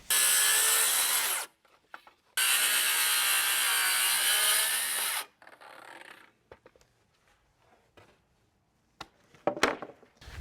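A power drill driving screws into wood rafters while hand-framing a large post-frame garage: two loud, sustained whirring bursts, each a few seconds long, then quieter clunks and handling knocks close by.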